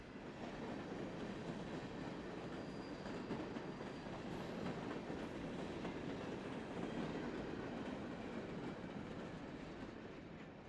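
A freight train of empty hopper cars rumbles steadily past on a diverging move, with a continuous low roar and faint clatter of rolling cars, with no voices present.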